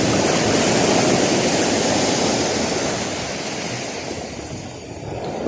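Big sea waves whipped up by Typhoon Tino crash and surge in a loud, continuous wash of surf that eases slightly toward the end.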